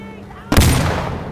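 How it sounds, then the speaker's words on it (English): Flash grenade detonating in the video game Insurgency: Sandstorm, a single sudden loud bang after a brief quieter lead-in, followed by a long ringing, hissing tail that fades only slowly. "Flash grenade out!"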